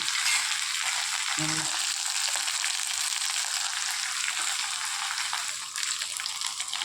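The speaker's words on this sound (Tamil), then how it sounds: "ஜீரகம் மல்லி இது நல்லா வறுத்து எடுத்துக்கணுங்க" Continuous crackling sizzle of cumin and coriander seeds dry roasting in a hot pan, steady and close, with no voices.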